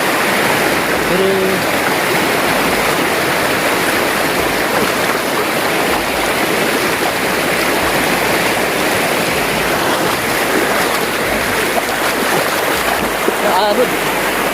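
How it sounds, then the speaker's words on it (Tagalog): A strong stream current rushes past in a steady, loud, broadband roar of flowing water that holds close and constant throughout. "Malakas ang agos."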